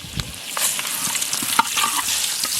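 Bay leaf and dried chilli sizzle hard in hot mustard oil. The frying hiss is steady, close and loud, broken by faint stirring scrapes, and no one speaks.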